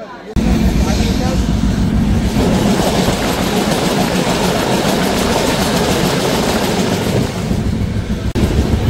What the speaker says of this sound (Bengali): তো ফাইনালি ট্রেন চলে আসলো